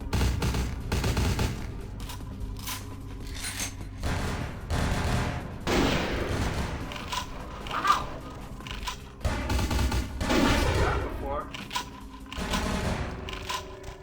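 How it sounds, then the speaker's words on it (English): Shotgun blasts in the video game Vampire: the Masquerade - Bloodlines, fired repeatedly in irregular bursts with sharp, loud reports and brief gaps between shots. "I think we're saying use the shotgun"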